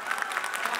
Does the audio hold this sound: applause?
yes